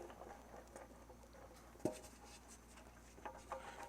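Cocoa powder being swirled around inside an oiled cake pan to coat the sides and bottom for a vegan chocolate cake, a faint, soft scratchy patter with a few light taps, no talking.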